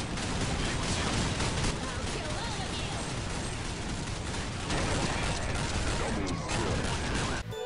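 Hunter Killer X12 firing in Counter-Strike Nexon, shooting zombies: a dense, continuous barrage of loud gunfire and impacts, busy game effects throughout with no pause.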